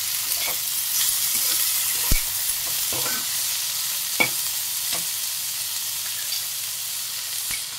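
Tomatoes and cabbage fry in a pan for a vegetable paddu, giving a steady broadband sizzle with a few sharp clicks of utensil stirring scattered through, close and without speech.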